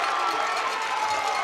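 A high school football crowd at a Riverside game roaring after a late hit, a steady broad cheer of many voices from the stands.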